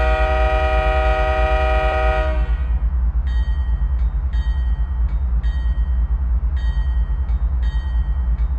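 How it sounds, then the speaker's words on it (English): A diesel locomotive in Microsoft Train Simulator sounds its horn, which then cuts off, and its bell keeps ringing in a steady repeated clang over a constant low engine rumble. "When you sound the horn, the bell will ring."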